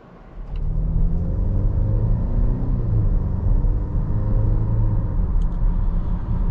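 A 2024 Volvo XC60 turbocharged SUV engine hums steadily on the road, a low continuous rumble with tire noise that builds in the first second and holds even.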